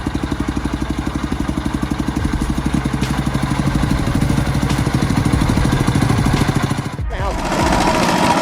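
A heavy tractor engine hauling a load of acacia logs over a winding red dirt road throbs with a steady, rhythmic low chug close by, briefly interrupted near the end before it resumes.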